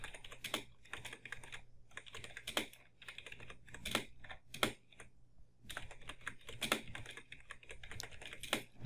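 Fingers type on a computer keyboard in bursts of rapid, crisp clicks with short pauses between runs, close and fairly quiet, with no one speaking.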